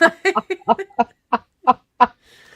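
A string of about nine loud, close duck quacks fires off in uneven rhythm, used as a comic sound effect to censor swear words, each a short nasal honk separated by brief gaps.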